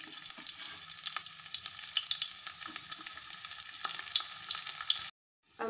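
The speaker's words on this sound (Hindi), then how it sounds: "मेरा तेल गरम हो गया है। अब मैं इसमें कटे हुए लहसुन डाल देती हूँ।" Chopped garlic fries in hot oil for a samosa filling, giving a close, steady crackling sizzle with small pops that continues evenly before cutting off briefly near the end.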